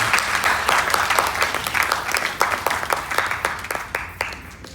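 An audience claps in support, a brisk crowd of hands with distinct loud individual claps standing out in an irregular rhythm, close and steady for the whole stretch.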